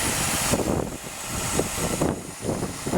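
A car engine idles steadily after a jump start while a bad alternator is diagnosed, a continuous broadband running drone with slight fluctuations, fairly loud and close, no talk.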